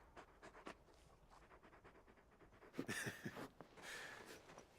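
Torgal, a very big dog in Final Fantasy XVI, panting in quick rhythmic breaths, then a louder, heavier burst of panting near the end, close by with no voices.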